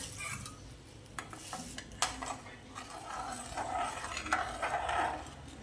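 Powdered sugar being stirred into a homemade Oreo ice cream mixture, with a spoon scraping and clinking against a bowl in quiet irregular strokes, close and soft with no talk.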